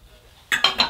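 Vintage French glass pans clink and rattle as they are handled, three quick bright knocks in under half a second after a quiet start, close by with no talk.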